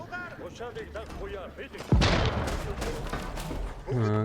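A voice speaks, then a heavy booming cannon blast erupts with a rumbling crash, followed by a brief tonal sound at the end, from cannons firing on a keep in Age of Empires IV.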